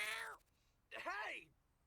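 A cat in the video game YIIK gives two drawn-out meows, the second rising and falling, close and clear with a short gap between them.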